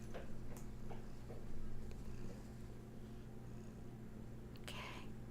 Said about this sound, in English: Yeah, we got a little purr.